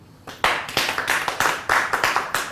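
A small crowd claps for orange contestant number 1, a sparse, uneven burst of a few hands beating in loose rhythm, close and fairly loud, with no voices.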